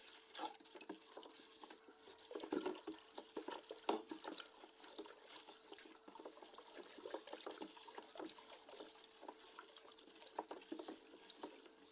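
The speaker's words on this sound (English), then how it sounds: "You pour in your sulfate, sodium sulfate, inside the 13 liters of water, and stir it very well too" Sodium sulfate being stirred into about 13 liters of water to make bleach, with faint swishing and sloshing, light drips and scrapes of the stirrer in a container, quiet and close.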